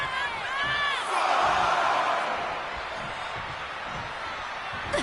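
Arena crowd in the WWE 2K26 wrestling video game cheering and roaring, a sustained swell that peaks early then settles into steady background crowd noise.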